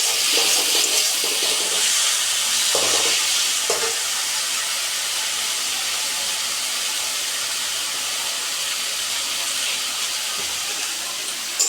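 Water added to greens frying in a pan with turmeric and salt, for a Bengali tangra fish curry, gives a loud, steady steam hiss and sizzle that carries unbroken through the whole stretch with no talk.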